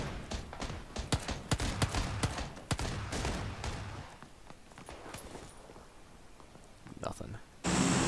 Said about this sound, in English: You wanna hear how fast it's fired? That is full auto.